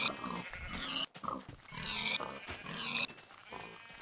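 Several Minecraft pigs grunt and oink continuously, loud and close, with squeals layered over low snorting.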